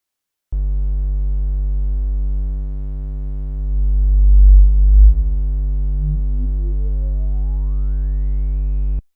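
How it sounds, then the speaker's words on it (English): A sustained buzzy tone holds steady, then an EQ boost swells and sweeps upward through the frequencies, rising to a thin whistle before cutting off. "as I sweep through this region, each of the frequencies was individually made louder"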